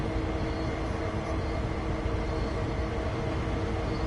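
A locomotive in the Train Sim video game gives off a steady, even rumble that drones on without pause, fairly quiet and unbroken.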